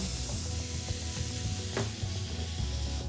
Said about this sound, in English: You can see the sizzle in there.